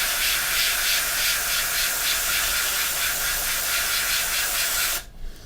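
An airbrush sprays paint onto a 1/48 Airfix Hurricane model in a steady close hiss with faint pulsing, stopping abruptly near the end.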